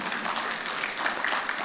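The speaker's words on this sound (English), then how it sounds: "A round of applause for Prof." An audience applauds at a university event in Nairobi, Kenya, honouring a professor, a steady dense patter of many hands filling the whole moment without a break.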